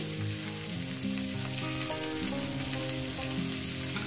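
Onion and green chilli frying in a pan for a spinach and small fish dish, a steady hiss of sizzling oil running throughout under a faint tonal hum, close and even with no talking.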